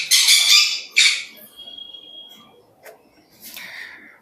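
A hand-fed lovebird squawking in sharp, loud bursts close by, with a thin drawn-out whistle between calls and a final harsh squawk after a pause.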